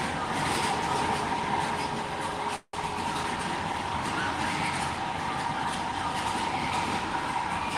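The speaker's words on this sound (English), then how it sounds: "You can hear all the cars as they go by." Traffic passing along a road near a Disney's Hollywood Studios queue, a continuous close rumble and whoosh of cars going by with a steady hum, broken by one brief dropout.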